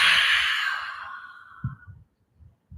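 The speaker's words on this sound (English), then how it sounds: "Exhale out your mouth." A single long breath exhaled through the mouth during a Kundalini yoga session, close and soft, fading over about two seconds, with faint low movement sounds afterward.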